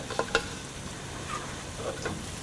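Already-cooked beef stirred into softened tomato in a pan for beef peralan, over medium flame. A faint sizzle comes with a couple of sharp early scrapes and light stirring noises.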